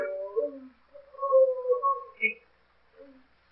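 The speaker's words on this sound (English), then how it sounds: "I thought I heard someone moaning." A low, wavering moan rises and falls in drawn-out, eerie phrases, broken by brief pauses and one short higher note.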